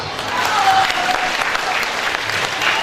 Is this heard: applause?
yes